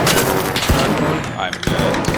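Gunfire in a video game comes as a few sharp, loud shots spread over a couple of seconds, mixed with other game sounds while players talk.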